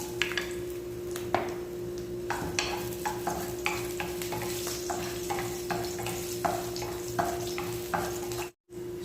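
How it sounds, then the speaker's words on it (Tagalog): Ginger sizzling and frying in hot oil in a wok, with steady crackling and repeated stirring scrapes and clinks of a utensil against the pan, close and continuous. "Tara, igisa na natin yung ating pusit. Lagay tayo ng ating oil sa ating pan, sa ating kawali."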